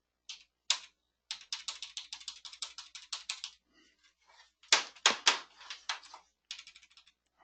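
Someone types in bursts on a computer keyboard that has a failing C key, giving close, sharp, rapid clacks in several runs with short pauses between them, and no voice can be heard.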